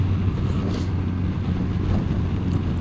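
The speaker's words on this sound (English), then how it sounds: "What a lovely smooth engine." A Yamaha FJR 1300 motorcycle engine hums smoothly and steadily while riding at around 50, mixed with heavy wind rush across the microphone.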